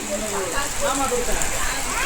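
Steady rain falls during a rainy drive through foggy hill country at Valparai, a continuous broadband patter throughout with a person talking over it.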